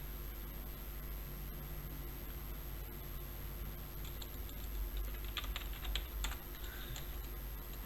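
Quiet, steady typing on a computer keyboard, with soft key clicks in irregular runs that come in a denser flurry toward the end, over a constant background hiss.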